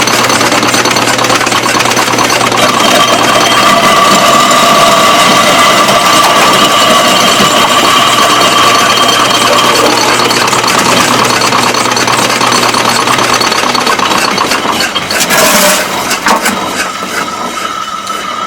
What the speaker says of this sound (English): now we're going to put it in a pulverizer and grind it on down to a finer powder